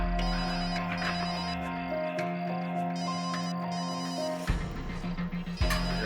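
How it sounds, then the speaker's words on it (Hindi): A mobile phone rings nearby with a steady repeating electronic ringtone melody that plays throughout, loud and clear with no talking over it. "फोन यहाँ आसपास ही बज रहा है।"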